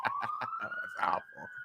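Emergency vehicle sirens in downtown San Francisco, a rising wail that carries steadily across the clip at moderate distance, heard under a person talking.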